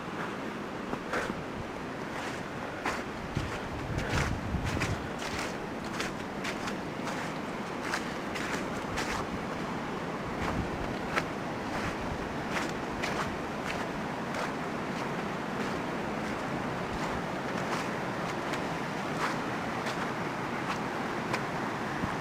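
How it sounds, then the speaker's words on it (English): Wind rushes over a mountainside near a waterfall, a steady broad roar with gusty swells and scattered sharp crackles of buffeting against the microphone. "And here the wind just coming up over the mountain."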